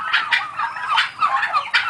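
Turkeys at a commercial turkey farm in Bangladesh, young birds about five months old, gobbling in repeated bursts close by, several calls overlapping in quick succession with no talk.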